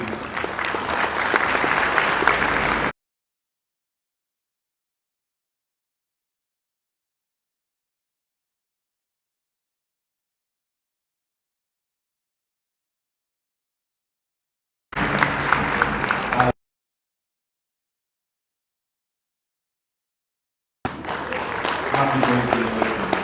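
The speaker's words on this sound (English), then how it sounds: "I would like to invite you to celebrate him today by a round of applause" Applause from an audience at an ECOWAS Court of Justice event, heard in three bursts of steady clapping separated by long silent gaps, loud and close with no talking over it.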